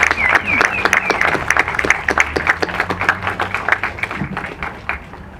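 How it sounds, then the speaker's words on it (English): Applause at a Black veteran historical corridor unveiling in Oakland, loud close clapping from a crowd that continues steadily and gradually thins toward the end. "let's give him a round of applause again"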